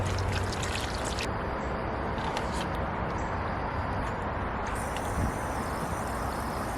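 Water sprays and splashes continuously from a small solar fountain pump, a steady close hiss of falling droplets with no talking.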